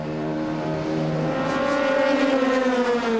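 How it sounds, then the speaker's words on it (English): A Porsche race car at a pit stop during the 2016 6 Hours of Bahrain endurance race, its engine whining loud and steady with rising pitch, close and continuous with no voices. "Another pit stop for the number 1 Porsche."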